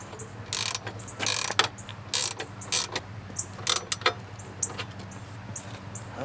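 A nut threaded back onto the crash bar bolt of a 2008 Suzuki V-Strom 1000 motorcycle, heard as quick bursts of ratchet clicking separated by short pauses, close and clear with no talking.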